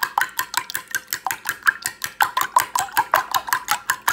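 Seasoned eggs being whisked in a bowl for breakfast, a fast, steady run of sharp utensil taps against the bowl, close and fairly loud, with no talk.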